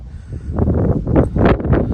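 Gusty wind buffets the microphone in low rumbling bursts, loud and close, with no voices.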